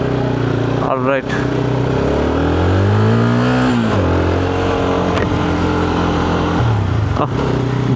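A GPX Demon 250 motorcycle being ridden, its engine loud and close, rising in pitch through revs and gear changes while someone talks over it.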